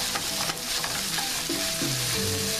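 Onions dropped into a hot pan and stirred, sizzling and frying with scraping utensil strokes, close up and continuous with no talking.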